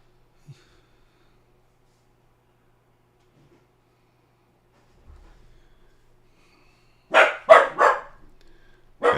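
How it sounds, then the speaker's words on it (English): Maxie the dog gives a quick burst of several sharp, close barks after a long near-silent stretch, followed by one more bark at the end. "Maxie's barking."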